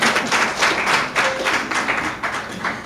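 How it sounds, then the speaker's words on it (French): Applause from a crowd at the opening of an international trade fair in Parakou, Benin: dense, continuous clapping in uneven surges, fairly close and loud, with no talk over it. "Applaudissez quand même pour Parakou."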